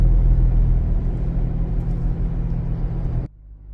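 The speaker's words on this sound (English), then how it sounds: "We really are in the shuffle of the" A car drives in rush-hour traffic with a steady, loud low rumble and road noise from inside the cabin, which cuts out abruptly near the end.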